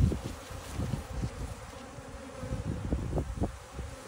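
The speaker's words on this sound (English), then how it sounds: "It's definitely a good package. Yeah, it seems to have a lot of bees." Honey bees in a bee package buzz close by, a dense, wavering hum with individual bees droning louder past now and then, with no speech.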